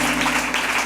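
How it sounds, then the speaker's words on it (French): A church congregation applauds in a short, dense burst of many hands clapping together, loud and continuous, filling the room over a low hum. "Acclamation."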